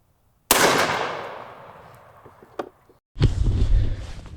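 A Beretta A400 shotgun with a Pattern Master Code Black choke fires Hevi-18 TSS turkey loads with number 9 shot: one loud, close blast that rings and decays outdoors, then a second sharp burst of noise.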